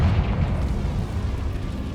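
A Confringo fire spell from the Hogwarts Legacy video game bursts in a deep, rumbling explosion that fills the whole two seconds, loud and sustained with a booming low roar and no voices.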